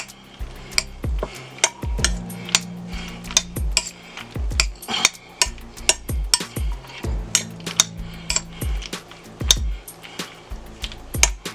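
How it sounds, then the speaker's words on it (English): A utensil stirs macaroni ham salad in a bowl, giving repeated clinking knocks and scrapes in an uneven rhythm, close and fairly loud, with no voices. "We're going to start to stir it up just a little bit here."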